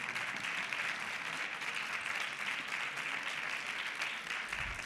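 Steady applause from an audience at a teachers' experience-sharing event, a dense even wash of clapping lasting the whole stretch at a moderate, slightly distant level.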